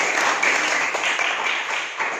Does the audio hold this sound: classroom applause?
yes